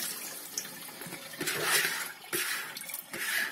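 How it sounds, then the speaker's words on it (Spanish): Cold, ice-chilled water draining from fresh anchovies (boquerones) through a strainer into a sink, a rushing, splashing pour that swells and breaks off in a few surges, close by. "Vamos ya a colar los boquerones."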